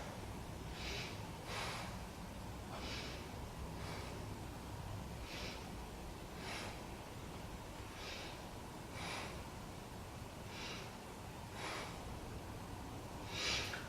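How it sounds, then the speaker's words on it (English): Slow, steady breaths during a yoga bow pose, roughly a dozen soft airy inhales and exhales spaced a second or so apart, close and calm over a faint background hum. "Breathe in, breathe out."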